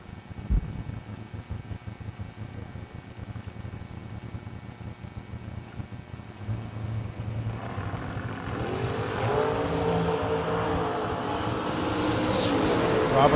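Drag race cars, a Chevy II and a Mustang, roar at a drag strip, with a steady engine drone building into a loud rising rush of revving engines toward the end.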